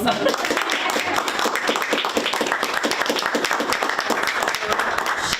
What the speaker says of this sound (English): I was going to give him a hand of applause